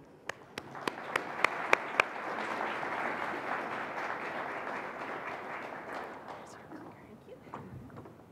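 An audience at a symposium keynote breaks into sustained applause, a dense wash of clapping from a crowded room with a few louder thumps near the start, fading toward the end.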